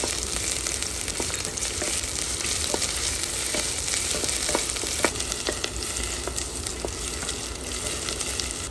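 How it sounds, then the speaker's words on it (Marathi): Chopped onions frying in hot oil for a Konkani shrimp curry with coconut and mango, giving a steady, dense sizzle with scattered sharp crackles and pops throughout, close and continuous with no talk. "आतां तेल गरम जाल्या उपरांत आमी तळसून घेवया कांद्याक."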